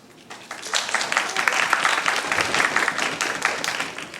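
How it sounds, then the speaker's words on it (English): Audience applause at a 2015 middle-school English debate grand final, greeting the finalists: a dense, steady wash of clapping that swells quickly and holds for several seconds without fading. "please give a round of applause to our grand finalists"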